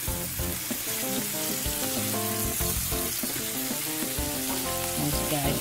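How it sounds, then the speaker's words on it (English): Ground beef frying in a skillet beside a hamburger patty, a loud, constant sizzle with crackling pops running throughout, close by and with no talking. "I'm cooking the other meat on the other half of the skillet."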